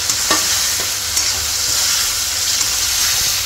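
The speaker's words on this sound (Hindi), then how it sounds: "तो अब इसमें ये बॉयल किए हुए आलू डालेंगे।" Boiled potatoes sizzling in a hot frying pan, a loud continuous hiss and crackle up close with faint stirring scrapes, no voices.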